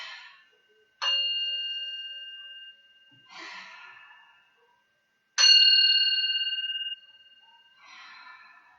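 Meditation chime struck twice during a beach yoga session, each strike a bright, clear ring that hangs on for about a second and a half. Soft breathing sounds fall between and after the strikes.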